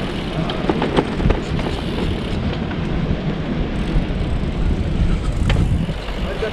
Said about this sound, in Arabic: هذاك السياره جايه قادمه من اليسار